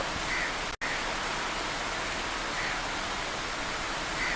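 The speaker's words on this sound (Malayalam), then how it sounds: "കർക്കിട മാസത്തിലെ മനോഹരമായ മഴ" Heavy Karkidakam monsoon rain pours around a house in Kerala, a dense unbroken hiss that is even and loud throughout, with one momentary dropout early on.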